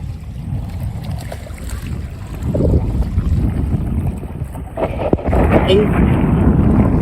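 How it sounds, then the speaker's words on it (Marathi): Strong sea waves wash and churn near a seaside fishing spot, a loud, rough rumble of water mixed with heavy wind buffeting that swells louder midway, while people talk over it. "पाण्याचा आवाज कसा आवाज येतो बघा. खूप जोरात लाट येते मित्रांनो."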